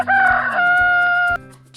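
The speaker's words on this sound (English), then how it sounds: "rooster," A rooster gives one loud, close, drawn-out cock-a-doodle-doo with clear harmonic tones. Soft rhythmic music plays beneath it.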